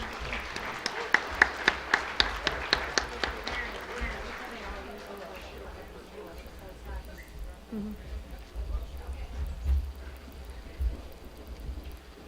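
An audience at a cooperative's annual meeting starts with a burst of scattered clapping in the first few seconds that thins out into room murmur and soft background noise.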